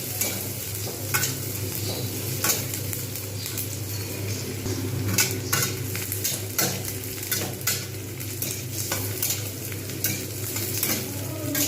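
Onions fry in oil in a pan for a Bengali fish-roe fritter curry, giving a steady close sizzle with scattered stirring scrapes and light clinks from a utensil throughout.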